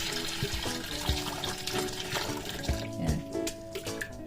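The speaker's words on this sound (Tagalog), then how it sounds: "Lalagyan ko lang ng konting mainit na tubig." Hot water poured into a cooking pot in a home kitchen, a steady splashing, gurgling stream with light clinks, moderately close.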